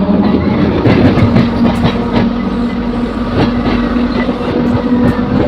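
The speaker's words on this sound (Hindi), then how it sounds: "बापू धाम मोतिहारी रेलवे स्टेशन के प्लेटफॉर्म 1 से हमारी ट्रेन का डिपार्चर होता हुआ" A MEMU passenger train pulls out of platform 1 at Bapu Dham Motihari station, wheels clacking rhythmically over rail joints with a loud, steady rumble close by.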